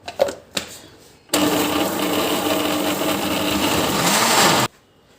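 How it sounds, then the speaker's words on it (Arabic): A blender blending juice whirs loudly for about three seconds after a few clicks and taps, then stops abruptly. "وهضرب في الخلاط"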